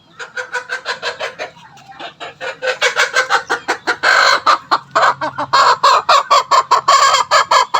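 Chickens about three months old cluck close by in rapid, rhythmic bursts, with a rooster's crow rising among the steady chatter of the flock.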